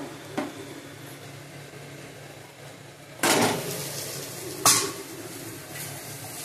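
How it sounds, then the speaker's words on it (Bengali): Soaked flattened rice is tipped into a pan and stirred, with a faint sizzle throughout and two louder scraping clatters of a spoon against the pan, close by; no speech. "এবার চিড়েগুলোকে দিয়ে দিব"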